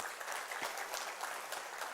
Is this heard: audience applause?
yes